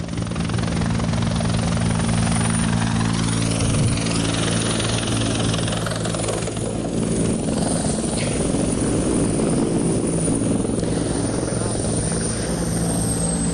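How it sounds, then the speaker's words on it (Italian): A fire service helicopter landing, its rotor thrum and engine whine filling the scene loudly and steadily, with a constant roar and no pauses. "state vedendo l'elicottero dei Vigili del Fuoco che è appena atterrato"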